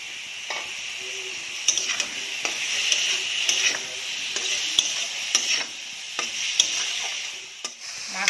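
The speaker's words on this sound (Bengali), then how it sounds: "মাছটা যেহেতু কাঁচা, তো তার জন্য একটু ভেজে নিতে হচ্ছে।" Raw fish frying in a pan, a steady close sizzle running throughout with scattered light stirring and scraping clicks, no voices.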